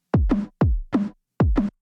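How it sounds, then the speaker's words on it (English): Three punchy drum hits in a steady pattern, each a deep kick followed closely by a sharp snare crack, loud and dry with short gaps between. "so we have our kick and we have our snare"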